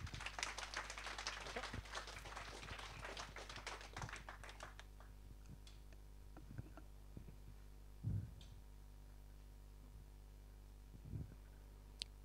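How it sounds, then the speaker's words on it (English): A WordPress London meetup audience applauds after a talk on coding standards: a quiet, dense patter of clapping for about four seconds that fades to a few isolated taps against a faint hum. "So please give Gary a big round of applause."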